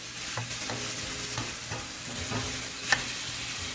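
Ground beef fries in a thin layer of oil in a pan for beef chili, a steady close sizzle with faint scraping stirs and one brief sharper tap near the end.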